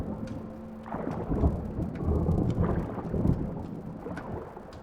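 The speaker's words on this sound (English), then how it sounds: "the rain beating on the leaves and stuff that was making that noise" Steady rain patters on leaves in a video game, with soft low rumbles swelling underneath, a moderate, continuous wash of falling water.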